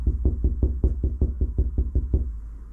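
About a dozen evenly spaced knocks on a steel door skin of a classic Mini Cooper, each dull and resonant, close by, with no talking.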